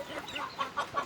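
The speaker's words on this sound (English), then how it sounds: "So here are the chickens." Chickens in a backyard pen with a peacock, turkeys and a duck give soft, rapid clucks close by, a short run of three or four quiet bursts.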